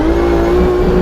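Drift car with a turbocharged BMW M50 engine on a track in Brazil, a loud sustained engine drone at near-constant pitch, heard close for about a second.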